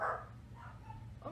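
Chihuahuas barking indoors, a few quick yappy barks and whimpers that come and go, faint and somewhat distant over low background noise.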